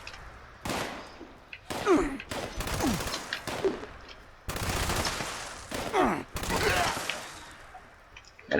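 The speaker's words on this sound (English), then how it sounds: "LMG in short bursts definitely gets the job done." Light machine gun firing in short bursts in the video game Fallout 76, several loud, sharp volleys separated by brief pauses, close and alone with no talking.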